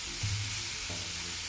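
A smash burger patty is flipped on a hot griddle and sizzles in a continuous loud hiss, with a brief scrape of the spatula at the flip.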